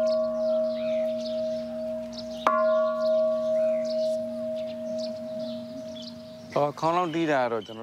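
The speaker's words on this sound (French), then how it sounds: "Nous sonnons la cloche pour partager les mérites et afin que tout le monde puisse en profiter" A large Buddhist temple bell at a pagoda in Bagan, Burma, is struck once and rings with a long, steady humming tone that fades slowly. Chanting voices rise over the hum near the end.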